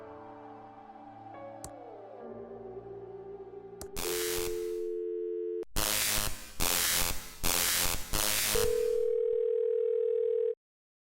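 Telephone dial tone in the video game Thimbleweed Park: a steady electronic tone holding alone for several seconds, broken by short busy-like pulses, then resuming before cutting off abruptly.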